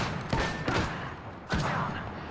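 Gunfire in the battle royale game Apex Legends comes as a few sharp, loud bursts spaced about a second apart, over steady game ambience with no talking.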